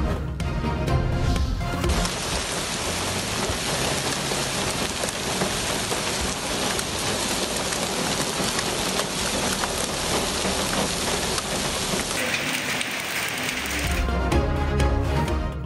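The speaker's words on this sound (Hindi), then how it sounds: "इस्लामाबाद और रावलपिंडी में तेज बारिश के साथ ओले गिर पड़े।" Heavy rain with hail lashes down in Islamabad and Rawalpindi, a dense, unbroken roar of drops striking surfaces that holds loud and steady throughout.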